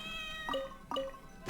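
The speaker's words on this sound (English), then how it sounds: "I can hear the cat's cries a bit clearer now." Two short meows from a cat character in Genshin Impact, close and clear over a steady hum of game music, followed by a brief clatter at the end.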